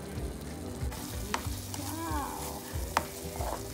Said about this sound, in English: Cooking the bacon.